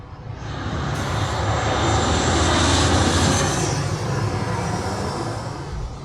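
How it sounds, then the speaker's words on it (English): A fixed-wing airplane's engine roars in a steady, broadband drone that swells slightly toward the middle and stays loud and continuous throughout, with no voices. "Here's the airplane right here."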